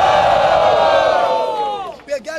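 Audience at a Batalha do Coliseu rap battle semifinal erupts in a loud, sustained roar of cheering and shouting that fades after two seconds into a few scattered yells.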